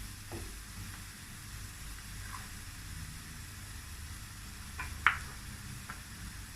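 Parsley stems frying in a pan for bulgur pilaf, a low steady sizzle with a couple of sharp scraping stirs near the end.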